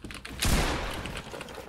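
A single shotgun blast in a shooter game, a sudden loud boom with a short rumbling tail amid faint background game noise.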